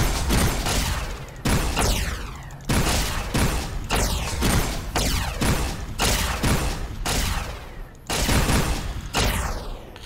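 Rapid-fire weapon shooting in Fallout New Vegas: loud repeated bursts of gunfire in quick succession, each blast decaying with a ringing tail, continuing almost without pause for about ten seconds.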